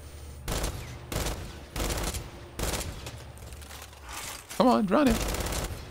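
Automatic gunfire in the video game Gears 5 rattles out in several sharp, loud bursts separated by short pauses, while someone talks over the shooting.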